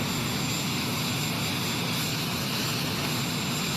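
An airplane engine runs steadily at an airport boarding area, a loud continuous broadband roar with no pauses and no voices.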